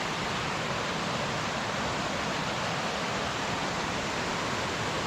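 Water flows steadily through Rausch Creek at a night campsite beside the trail, a continuous, loud, full-bodied rush that stays even and unbroken throughout.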